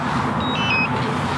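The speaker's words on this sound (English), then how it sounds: "this thing's beeping at me" A few short high electronic beeps from a drone, faint over a steady low rumble of wind or engine noise.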